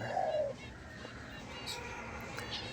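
A laughing dove gives a soft coo once near the start, faint against a quiet outdoor background with light ambient noise.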